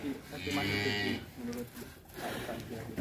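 A jumbo one-ton sacrificial bull with banteng-like horns moos twice, long and deep, as it leaves its pen, the calls fairly close with people talking nearby.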